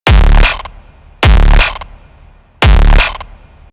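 Hardcore kick drum processed through a linear-phase Pro-Q 3 EQ with the sub centered: three loud distorted booming hits spaced about 1.2 seconds apart, each with a hard attack and a pitched low tail, alone.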